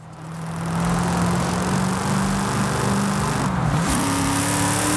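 A naturally aspirated V8 car engine in the Forza Horizon 5 racing game revs steadily, a loud, continuous drone with a smooth rise in pitch near the end and no talk.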